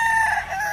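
A gamefowl rooster lets out a brief, close, loud crow, its clear strained tone holding steady through the short fragment.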